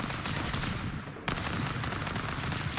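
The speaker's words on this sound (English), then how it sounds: "Oh my god, the gun's recoil is too high." Dense, sustained gunfire from the stick-figure fighting video game Stick Fight, a rapid continuous rattle of shots with a brief drop near the middle before firing resumes.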